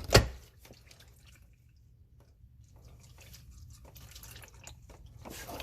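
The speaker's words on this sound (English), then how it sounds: "And allow it to drain." Engine oil drains from a Mazda CX-9 into a drain pan as a soft, continuous liquid trickle and dripping that builds slightly, after a single sharp clunk at the start, with no talking.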